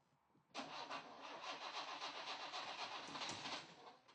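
An old restored car's engine cranks and catches abruptly, then runs loud and rough with an uneven, coughing idle that holds steady for several seconds before easing off at the end.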